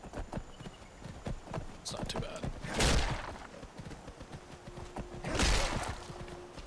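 Horse hooves clop in Skyrim, a rhythmic run of close footfalls, with two louder whooshing bursts and someone talking over them.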